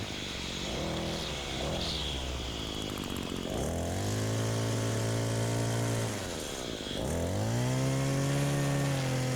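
Leaf blower running steadily during lawn care, a loud continuous engine drone that dips and rises in pitch as the throttle changes, close and alone.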